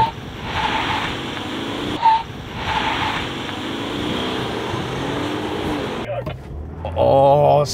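Pickup trucks such as a Ford Ranger Raptor and RAM TRX launch and accelerate hard side by side in a drag race, a loud broad engine roar and whoosh rising and shifting, with a person talking over it.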